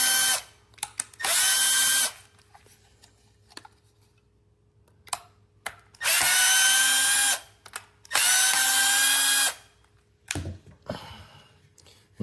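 A power driver with a size 10 Torx security bit backs screws out of a battery charger case, whirring in several bursts of about a second each, separated by quiet handling clicks and small rattles.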